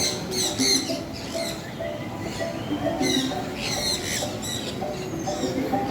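Pigeons in an enclosed biodome exhibit at an ocean park make soft repeated cooing and chirpy calls amid steady crowd murmur, with occasional nearby voices.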